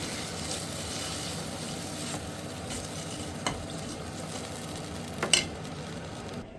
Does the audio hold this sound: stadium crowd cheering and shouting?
no